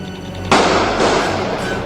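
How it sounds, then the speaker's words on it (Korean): A single sharp gunshot cracks loudly at a shopping mall in Nairobi, Kenya, followed by a long echoing rumble that slowly fades over a humming background. "이 평화로운 오후에 정적을 깨는 총소리."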